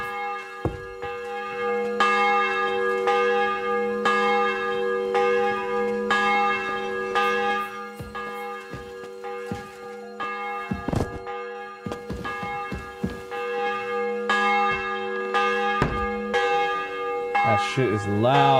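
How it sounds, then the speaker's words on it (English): A church bell tolls repeatedly in a medieval video game, loud, ringing strokes with a long sustain, sounding steadily throughout with a few thuds in between. "The bell's ringing for Hans the 5th time."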